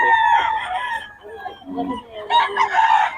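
A rooster crows loudly and close on a farm in Pampanga, with chickens clucking in between and another crow near the end.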